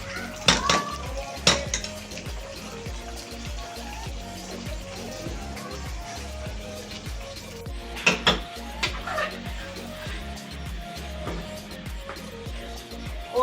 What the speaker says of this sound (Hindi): ये मैं सैलेड जो है वो डिश में डाल दी